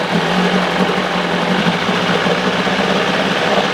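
A 1975 Johnson 25 hp outboard motor being revved after sitting unused for over four years, a loud continuous buzzing engine drone holding steady up close.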